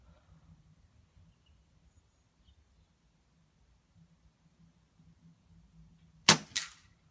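At an outdoor target range, a gun fires at reflex targets, with two sharp cracks close together near the end after several seconds of near silence, the second shot sounding slightly softer.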